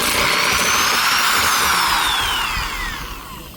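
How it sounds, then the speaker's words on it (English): A number 5 step drill bores a 5/8 inch hole through a 5-inch steel disc, giving a loud, close, continuous whining grind with rising and falling tones that eases off toward the end, with no voices. "Starting with the 5-inch steel disc, I used a number 5 step drill to create a 5/8 inch hole in the steel disc."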